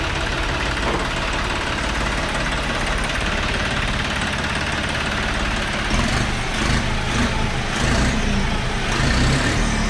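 A vehicle engine idles in neutral, a loud continuous low rumble with a rough steady texture throughout and slight knocking pulses, close to the listener.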